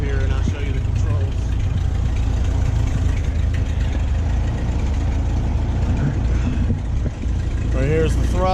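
A Ford 8N tractor with a loader and a new muffler idles nearby, a steady, fairly quiet low engine rumble running the whole time, with a person talking over it.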